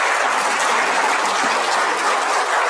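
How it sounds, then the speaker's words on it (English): A large plenary session audience breaks into a big round of applause, a dense, even wash of many hands clapping that holds at steady strength throughout with no voices over it. "We should really give them, all of them, and people at the CNM, a big round of applause"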